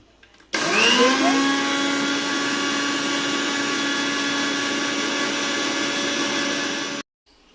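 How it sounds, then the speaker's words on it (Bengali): An electric mixer grinder grinds dry poppy seeds in one loud, steady motor whine that starts abruptly, holds for about six seconds, then cuts off, with no talking. "পোস্তটা প্রথমে ড্রাই অবস্থায় একবার বেটে নিতে হবে"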